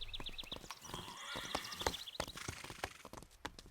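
Cartoon horse Pepper whinnies and snorts in agitated bursts, with clopping hooves and a busy stable backdrop, loud and close with no talk.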